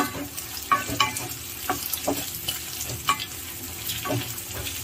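Cut okra sizzles in hot oil and is stirred in a pan, with a steady frying hiss and intermittent scraping strokes of the spoon, close and moderately loud with no talking.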